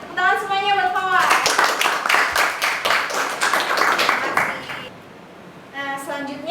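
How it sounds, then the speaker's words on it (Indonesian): A classroom claps for a student named Fawaz, a short burst of many hands between the teacher's talk, which is heard before and after the clapping fades. "Tepuk tangan semuanya buat Fawaz"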